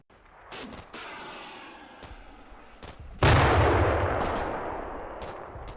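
Gunfire in the war game Combat Mission: Black Sea: a few sharp rifle shots, then one loud close blast with a long decaying rumble, no voices.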